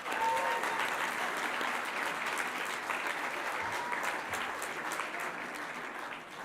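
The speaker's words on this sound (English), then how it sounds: "let's give them another round of applause" Audience at an awards ceremony applauding, a dense steady patter of many hands clapping in a hall that fades slightly toward the end.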